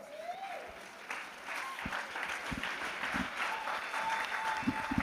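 A church congregation at an evangelical gathering bursts into sustained applause, a broad wash of clapping that builds and holds with a few louder close claps, while faint voices carry underneath.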